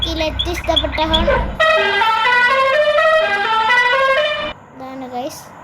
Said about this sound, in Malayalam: എനിക്ക് ഏറ്റവും ഇഷ്ടപ്പെട്ട ഹോൺ